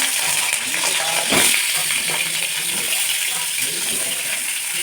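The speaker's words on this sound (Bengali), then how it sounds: "কড়াইতে আবার একটু তেল দিয়ে আলুগুলো নুন হলুদ দিয়ে ভেজে নেব" Potatoes with salt and turmeric fry in hot oil in a kadai, a loud, continuous close sizzle with occasional stirring scrapes and a brief clatter early on.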